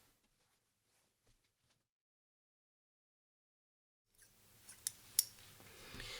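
After a long quiet stretch, a few sharp scissor snips clip into fabric while a bodice is prepared for draping, close up over a soft background rustle.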